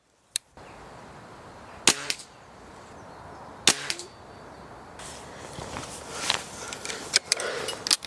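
An HW97 air rifle fires at a target outdoors, sharp single cracks spaced a couple of seconds apart, followed by faint clicks and handling noise.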